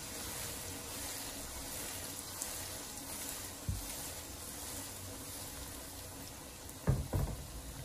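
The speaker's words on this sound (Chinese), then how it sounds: "我们继续的用小火给它慢慢的煎，同样的把它这一面煎到金黄色。" Tofu slices pan-frying slowly over low heat give a soft, steady sizzle throughout, with a couple of brief knocks or clatters near the end.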